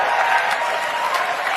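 Steady, loud applause from a live audience at a tech demo, sustained dense clapping without a break and no voices over it.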